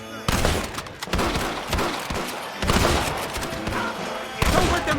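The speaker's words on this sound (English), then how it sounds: "They shot him dead!" Gunfire in the Red Dead Redemption video game: a dense, loud fusillade of overlapping shots and impacts running through the whole stretch, with voices talking over it.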